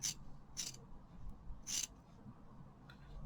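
Scissors trim the top edge of a sheet of paper with three or four quick, crisp snips spaced irregularly, close by and alone, with no one talking.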